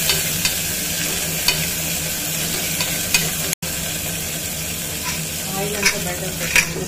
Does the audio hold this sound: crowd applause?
no